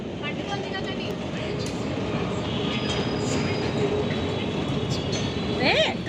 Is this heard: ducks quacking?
no